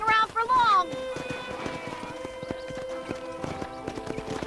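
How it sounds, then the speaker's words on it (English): A pack of wild horses in the Red Dead Redemption video game whinnies loudly at first, then hooves clip-clop in a quick, busy galloping rhythm under a musical score. "That ranch hand said there's a pack of wild horses nearby."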